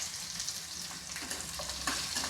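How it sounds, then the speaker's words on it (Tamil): Two medium onions, cut into quarters, sauté with three cashews in a small kadai, making a continuous, close frying sizzle with faint crackles and no voices. "3 முந்திரி போட்டு இதில் வதக்கிக்குவோம்."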